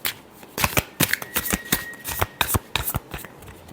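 Tarot cards are riffled and shuffled by hand in a rapid series of crisp, papery flicks and slaps, close and clear, with no voice over them.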